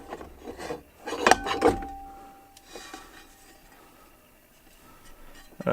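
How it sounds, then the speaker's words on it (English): A turntable platter and drive belt are fitted back onto a thrift-store Audio-Technica AT-LP60, with quiet close clicks, knocks and plastic rubbing clustered early, then fainter handling taps in a mostly hushed room. "So then you just place the platter on there, pinch the belt, hinge the belt and stick it over the motor."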